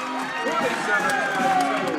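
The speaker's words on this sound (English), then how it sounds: "Crowd getting into it here at Larry Rivel Court" Crowd roars and cheers at a girls varsity basketball game between Millard South and Bellevue East at Larry Rivel Court on Jam The Gym Night, a steady dense wall of voices with sneaker squeaks cutting through.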